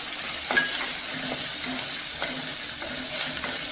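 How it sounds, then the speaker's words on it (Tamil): Onions sautéing with chili powder in a pan, steady sizzle and frying hiss for Tamil murungai keerai kootu, with a few soft stirring scrapes and clicks, close and continuous, no talking. "வெங்காயம் நல்லா வதங்கட்டும். இப்போ இந்த மிளகாத்தூளை போடுவோம்."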